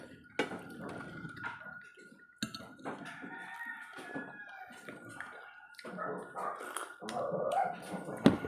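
A pet dog barks and yips in short bursts close by at home during breakfast, with whimpering between the barks and scattered household clatter.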